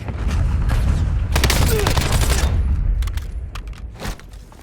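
Rapid bursts of automatic gunfire ring out in a first-person shooter match, loud clustered volleys with a heavy low-end boom, then a pause before a few scattered shots trail off.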